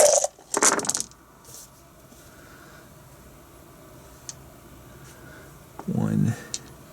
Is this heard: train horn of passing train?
no